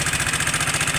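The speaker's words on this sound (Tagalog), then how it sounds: "pakinggan po natin yung tunog ng Aerox" A noisy Yamaha Aerox 155 scooter engine idles steadily up close, with a rapid, even pulsing throb and a bright metallic rattle running over it, and nobody speaks.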